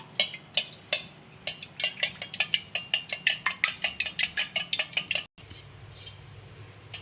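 A utensil beats an egg in a bowl for a coating, with rapid, regular clinking strokes, loud and close, that pause briefly before a softer scraping stir resumes.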